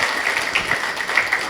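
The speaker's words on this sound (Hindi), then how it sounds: "जोरदार तालियां।" An audience claps in a continuous, fairly loud burst of applause from a crowd at a live session, with dense overlapping hand claps and no pauses.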